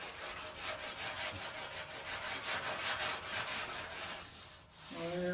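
Rhythmic back-and-forth scraping of 80-grit sandpaper on the painted body of a 1963 Chevrolet Impala, steady strokes about four per second, close and loud, briefly pausing near the end.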